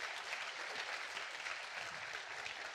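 Steady applause from a conference keynote audience fills the room, a dense, even wash of many hands clapping at moderate distance with no voices above it.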